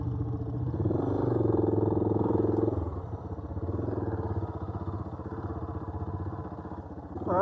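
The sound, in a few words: adventure motorcycle engine riding fully loaded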